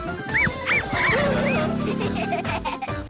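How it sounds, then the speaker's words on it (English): Cartoon dogs from Bluey barking at invaders, a run of high, excited yips and arching barks in quick succession, loud and close, mixed with whimpers and some voice sounds. "Bluey tells Bingo that they have to bark at the invaders."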